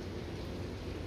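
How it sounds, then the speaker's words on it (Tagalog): Water dripping onto a roof after a hail storm, a dense, faint patter like steady light rain heard briefly with no voices. "Ayan kasi yung patak ng tubig sa bubong."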